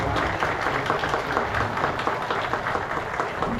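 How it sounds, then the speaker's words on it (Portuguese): Steady applause from a church congregation fills the space at a moderate distance, dense and even throughout, for a priest, Padre Maurício, at a pilgrimage gathering. "Uma salva de palmas para o Padre Maurício."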